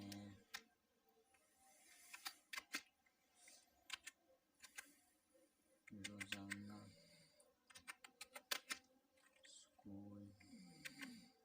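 Someone types on a computer keyboard during an InPage computer class: close, quiet bursts of clicking keystrokes separated by short pauses, with someone speaking between some of the bursts.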